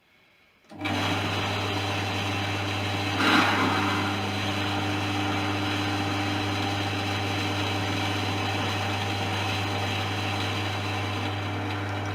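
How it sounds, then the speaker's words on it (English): An electric drill fitted with a 3.2 mm (1/8 inch) bit starts up and runs at a set speed, giving a steady, close motor whine and hum that holds evenly for several seconds with one brief louder surge. "Get the safety glasses while I do drilling."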